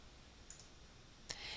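Two light computer mouse clicks while opening email account settings, quiet and close, the second one sharper, with faint room hiss between.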